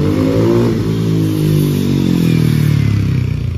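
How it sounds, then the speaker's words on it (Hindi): Harley-Davidson X440 motorcycle exhaust note rising and falling through a loud, close rev, a deep throbbing engine tone with no voices over it. "बाप रे क्या ही है भाई ये एग्जॉस्ट नोट इसका ना, मुझे काफी अच्छा लगा"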